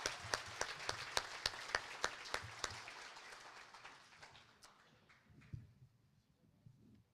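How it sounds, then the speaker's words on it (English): A graduation audience applauds its speakers with a dense burst of clapping and a few sharper claps. The applause is loud at first, then thins and fades over the last couple of seconds. "Let's give another round of applause to our fantastic graduation speakers."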